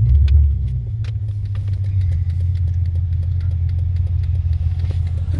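A right-hand-drive Dodge Charger rumbles steadily from inside the cabin while being driven, its low engine drone holding constant with a few faint clicks and knocks and no talking.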